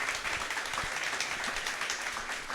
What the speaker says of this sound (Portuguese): Eu gostaria que os irmãos dessem uma salva de palmas para os nossos preletores.